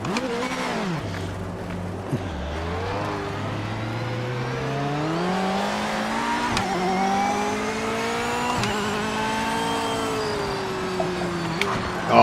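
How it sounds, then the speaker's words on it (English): Race cars in a racing video game on wet tyres over a dry track, engines droning and shifting pitch steadily throughout with a thin irritating squeal layered over them, no talking. "that sound that the wet tyres make on a dry track hurts. Doesn't hurt, but it's like It's like this irritating squeak"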